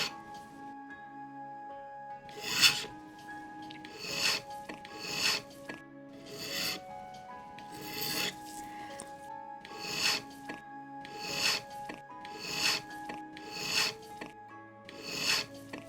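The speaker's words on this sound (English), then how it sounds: "we then start running the pivot file at 45 degrees over the top of the tapered pin, at the same time turning the pin vise." A pivot file rasps over a tapered pivot pin from a Dutch Sallander moon phase wall clock, making about a dozen evenly spaced short strokes, close and quiet over a faint steady hum.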